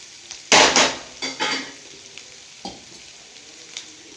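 Ingredients for ginger pachadi fry in oil with sharp bursts of sizzle and clinks of a utensil against the pan, several separate spurts over a quieter background.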